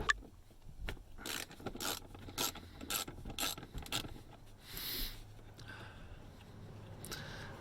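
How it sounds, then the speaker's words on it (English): A 10mm socket on a ratchet clicks in quick runs while removing a bolt inside a Scion FR-S, near and moderately loud, with a few scrapes and rubbing handling sounds and no voices. "So you need a 10mm socket, and we're gonna get that off for you."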